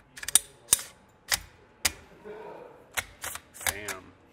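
Bolt assembly of a Mini Fix pistol fitted onto its frame rails, a series of sharp metallic clicks and snaps spaced irregularly, close up, ending in a quick cluster of rattling clicks.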